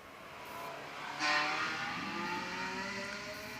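Ferrari 360 Spider with its rear-mounted V8 revving hard on a hill climb, a steady engine tone that swells to a louder burst partway through before sustaining at a distance, with no talk over it.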